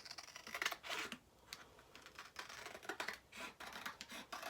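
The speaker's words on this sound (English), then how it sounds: "I am going to cut out the sheet." Scissors cutting through a printed sheet of trading-card paper, a steady run of crisp snips and rustling paper close by, with no talking.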